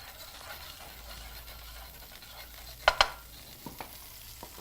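Linguine is stirred in a pot on the stove, a soft continuous swishing with faint bubbling, and a couple of brief metallic clinks of the utensil against the pot near the middle.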